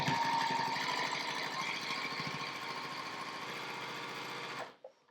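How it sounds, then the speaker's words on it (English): A sewing machine stitches quilt fabric triangles in a fast, steady mechanical whir with rhythmic needle ticking, running alone and close before stopping abruptly near the end. "And then we put on the next triangle and sew across."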